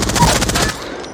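A rapid burst of automatic gunfire from a weapon in the video game Apex Legends, dense repeated shots for under a second before tailing off.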